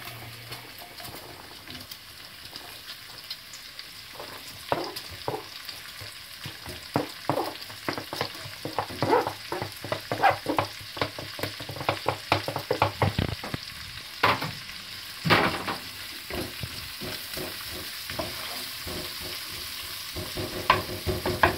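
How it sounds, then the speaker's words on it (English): Onions frying in a pan for a spaghetti bolognese, with a steady low sizzle under repeated scraping stirs of a utensil that grow more frequent and louder toward the end. "I'm going to start adding the onions"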